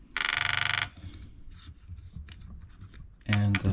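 Polarstar F1 airsoft gun solenoid cycling rapidly while firing in a King Arms Black Rain Ordnance rifle, two loud buzzing bursts of fast clicks separated by quieter handling noise.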